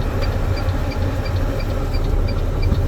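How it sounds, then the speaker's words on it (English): A truck's engine runs at a low steady idle during a pre-trip inspection for a state air brake test, a continuous rumble with a faint repeating tick and no talk. "I'm now going to perform a safe start by depressing the clutch,"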